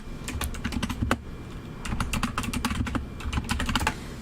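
Fast, irregular typing on a computer keyboard, close and crisp, in bursts with brief pauses between them.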